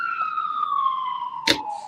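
An ambulance siren wails in a steady descending tone, with a short sharp bang or thump breaking in near the end.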